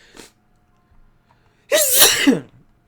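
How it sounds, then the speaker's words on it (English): A single loud, close sneeze, preceded by a quick breath, bursts out against near silence. "I gotta sneeze again."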